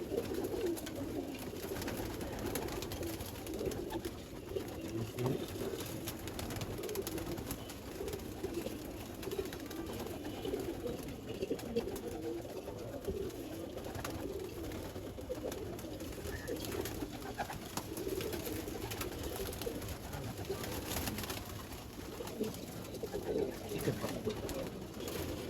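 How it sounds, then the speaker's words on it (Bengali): Steady low cooing from a female tournament pigeon carries on for the whole stretch, close and continuous with a murmur of other birds, with almost no talk over it. "এটা একটা মাদি কবুতর।"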